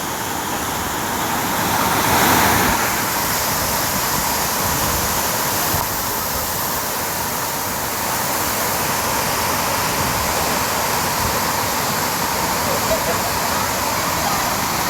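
Vattai waterfall splashing close by, a constant loud hiss and roar of spraying water, with a faint voice under the steady wash.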